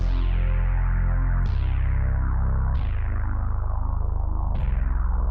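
Deep, sustained synth bass notes from an Element 2.0 virtual analog synth preset, with a sweeping filter that opens and closes, each new note starting with a bright swell that fades down.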